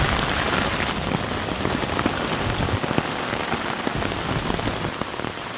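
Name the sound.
heavy rain falling on a tent during a storm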